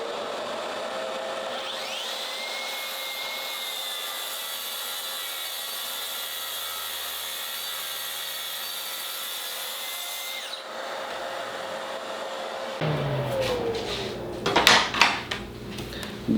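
A saw with a regular blade cuts through melamine board in one long continuous pass, a loud steady whine holding for about ten seconds before it stops and clattering handling noises follow.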